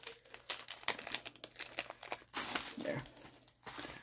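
Plastic packaging crinkling and tearing as it is peeled off a diamond painting kit, close-up bursts of rustling and crackling in irregular pulls, with a longer stretch of crinkle in the second half.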